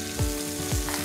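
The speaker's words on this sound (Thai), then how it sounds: "ใส่ถั่วพูลงไปก็ผัดเลยค่ะ" Winged beans stir-fried over high heat in a hot pan, a steady loud sizzle with two scraping stirs of the spatula, no talk.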